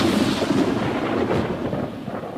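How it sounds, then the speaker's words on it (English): Deep rolling thunder from a sound effect in a Kingdom Come audiobook, a loud, continuous rumble that churns for a couple of seconds and slowly eases off, with no voice over it. "7 thunders utter their voices."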